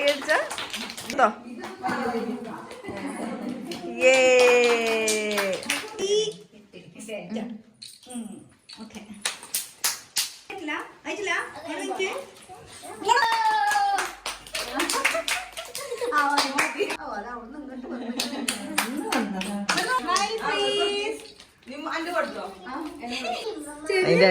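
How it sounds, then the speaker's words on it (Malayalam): Family and guests clap at a child's birthday party, bursts of hand claps mixed with lively talk and children's voices, fading and returning in several rounds. "കൈയടിച്ച"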